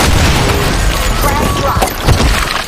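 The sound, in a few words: grenade explosion in a video game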